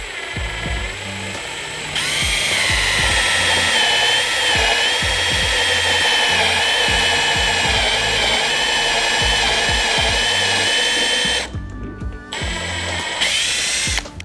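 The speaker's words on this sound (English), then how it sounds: "we're going to drill from the outside in to make the cleanest hole" A power drill bores steadily through a BMW F30 plastic bumper for parking sensor holes, cutting from the outside in with a loud continuous whine that pauses briefly near the end.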